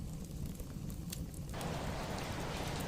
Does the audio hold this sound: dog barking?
no